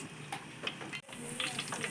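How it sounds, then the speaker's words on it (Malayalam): Crushed garlic cloves frying in oil toward golden brown give a soft, brief sizzle with a few sharper crackles and a short dip in the middle. "നമ്മുടെ ആ ചതച്ച് വെള്ള വെളുത്തുള്ളിയൊക്കെ നല്ല ഗോൾഡൻ ബ്രൗൺ ആക്കി നമുക്ക് വറുത്ത് കോരണം."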